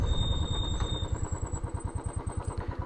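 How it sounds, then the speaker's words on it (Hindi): A motorcycle engine runs close by on a village road, a rhythmic chugging pulse that settles into an even idle-like beat, loud and unaccompanied by talk. "चलो बाइक को आने दो"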